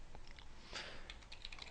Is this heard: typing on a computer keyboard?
yes